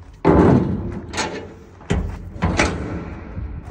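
A shipping container door fitted with a red locking piece is pushed and rattles against the block, giving three loud metallic clunks and bangs close by, each trailing off before the next.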